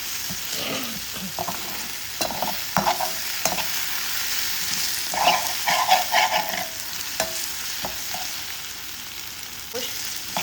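Vegetables frying in a small amount of oil in a home kitchen pan, stirred with a utensil: a steady soft sizzle broken by repeated scraping and clinking stir strokes, close by, with no voices.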